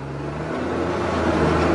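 A JCB Fastrac 3230 tractor pulls away from a standstill in C5, its engine drone steady and close, building slightly in loudness with a low rumbling hum throughout.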